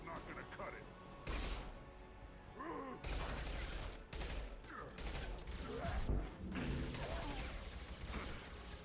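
Dense, continuous gunfire and explosive impacts fill a battle in the video game Mass Effect 2, rattling steadily with loud bursts over clanking mechanical effects, while voices speak over the combat.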